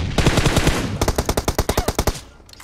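Automatic gunfire in a shooting video game comes in a sustained burst, then breaks into a rapid, evenly spaced string of about a dozen loud, sharp shots, and after that a short quiet pause and a faint click. No one speaks.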